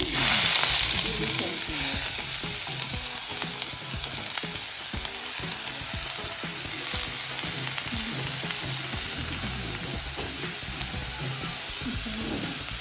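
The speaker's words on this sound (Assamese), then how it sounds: "এতিয়া মই এটা এটাকৈ চবখিনি ভাজি লওঁ।" Two medium onions frying in mustard oil in a wok make a loud, continuous close-up sizzle that holds steady throughout, with occasional stirring scrapes.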